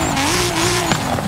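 The Toyota 2JZ-engined Camry stock car in the Forza Horizon 5 racing game roars loudly and continuously, its engine pitch rising and steady, with a brief tire squeal partway through.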